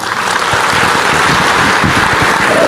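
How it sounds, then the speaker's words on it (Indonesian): Church congregation applauding, a loud, close, sustained wash of many hands clapping together with no speech over it. "Tepuk tangan semuanya."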